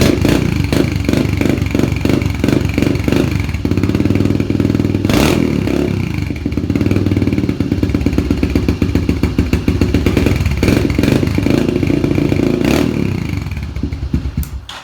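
An old motorcycle starting from cold, its engine loud and close with a rapid chugging idle that swells into repeated revs and settles back, running continuously throughout with no talking.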